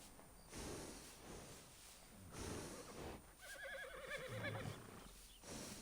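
A horse in Red Dead Redemption 2 gives a clear, wavering whinny near the middle, heard over a steady background hiss of game ambience, with a few soft thumps around it.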